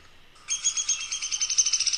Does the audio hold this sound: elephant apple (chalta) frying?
no